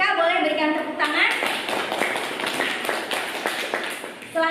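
Students in an Indonesian-language classroom give a round of clapping, a scattered burst of hand claps lasting a few seconds, with a voice heard at the start.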